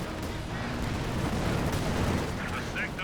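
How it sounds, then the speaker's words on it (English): Incendiary artillery barrage in Company of Heroes 2, a continuous rumbling roar of explosions and crackling fire with a denser burst near the middle and hissing flares toward the end. "we got some sort of incendiary barrage being brought on in"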